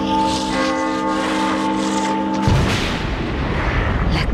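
A church bell tolls in The Evil Within video game with a sustained, resonant ringing tone. A heavy booming rumble then cuts in and swallows it, leaving loud, dense low noise, with no voices.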